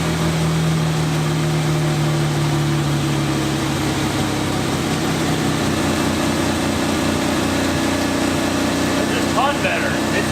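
A barn-find Buick Grand National's engine idles steadily after a fuel-system fix, a constant low drone with a fairly even tone that runs loud and close the whole way through.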